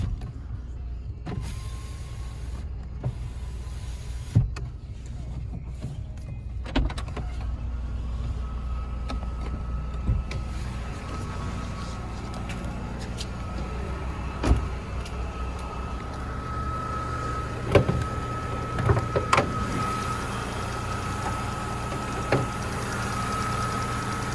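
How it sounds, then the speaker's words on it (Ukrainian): Power windows on a Skoda Octavia run in short motor whirs with clicks and thumps inside the car, over a low steady hum of the idling engine and cabin. "Склопідйомники."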